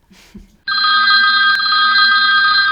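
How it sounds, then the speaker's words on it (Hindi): A telephone bell rings loudly and continuously after a brief moment of quiet rustling at the start. "देखो किसका फोन है।"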